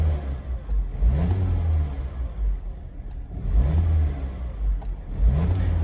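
A BMW 116i engine with an oil pressure fault runs roughly, its low, uneven idle rising in repeated surges about every two seconds, close and steady with no talking.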